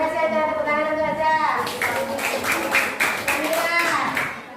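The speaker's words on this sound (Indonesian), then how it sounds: "Tepuk tangan untuk Aca." Classroom applause for a student: a burst of clapping from a group of children starts about a third of the way in and runs to the end, with a voice heard before and under the claps.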